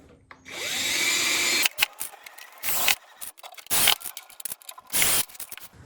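A power driver running screws into the back of a Back to the Future guitar build, a whirring drive burst followed by several short buzzing spurts with pauses, close by.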